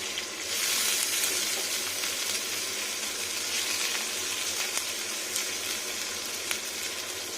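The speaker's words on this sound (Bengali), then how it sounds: "একটু ফ্রাই ফ্রাই ফ্রাই হবে" Lightly crushed whole garlic cloves frying in oil, a steady close sizzle and crackle that swells early and holds evenly throughout, with no voices.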